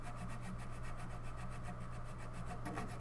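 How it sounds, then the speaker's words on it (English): A flush-cut saw trims wooden plugs level with the legs of a lounge chair, a steady rasping scrape running throughout, close and moderately quiet over a low constant hum. "And then I flush cut the plugs"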